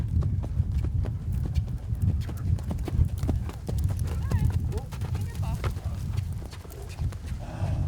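Horse hooves clip-clopping steadily during horseback riding and equestrian vaulting practice, a continuous close rhythm of hoofbeats with people talking over it.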